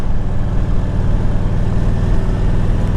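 A carbureted 1999 Harley-Davidson Electra Glide Standard engine idles up close, a steady, loud low-pitched rumble with a lumpy, rhythmic firing pulse throughout.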